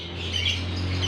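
A lovebird chirps in a dense, continuous twitter with squawky edges, heard close over a steady low hum.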